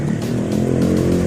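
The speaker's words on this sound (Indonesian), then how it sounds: "di sini di pinggir jalan kadang saya harus nahan dulu supaya motor yang suaranya kencang lewat dulu" A loud motorcycle passes close by at a roadside, a rough, continuous engine drone that fills the whole moment with no talk over it.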